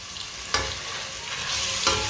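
Crushed garlic fries with browned onions in a pan while cooking aloo palak: a steady, bright sizzle with a couple of sharp stirring scrapes close up.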